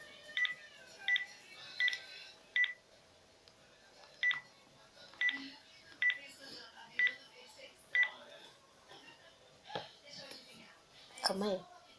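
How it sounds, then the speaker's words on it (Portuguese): Keypad tones on a phone as a number is dialed to call a friend, about a dozen evenly spaced beeps followed by a brief call tone and faint rustling, close and clear. "então eu vou ligar pra ela"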